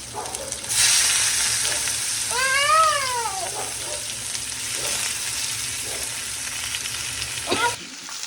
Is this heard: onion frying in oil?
yes